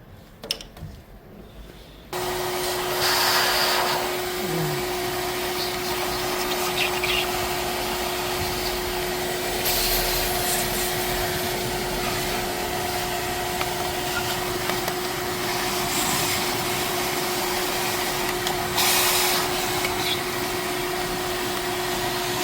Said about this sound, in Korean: 청소기 진공 청소기 돼야 될 것 같습니다.